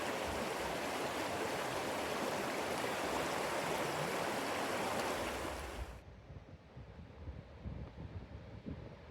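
Loud rushing stream water roars steadily, then drops to a quieter, choppier flow partway through, close and forceful with no voices.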